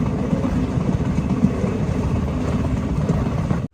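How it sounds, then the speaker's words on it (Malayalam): A passenger train near Bijbehara station in Kashmir rumbles steadily with a dense, loud, continuous low roar, heard from inside, before cutting off abruptly at the end. "ട്രെയിൻ ഇപ്പോൾ ബിജി ബഹറ എന്ന് പറഞ്ഞ സ്റ്റേഷൻ എത്തി"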